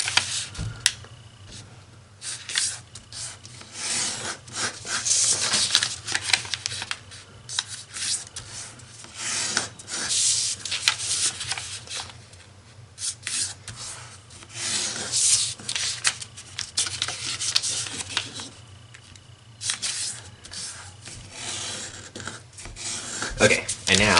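Paper being folded into an origami octagonal flying flicker, with repeated close rustling, rubbing and creasing in bursts, with a person talking now and then.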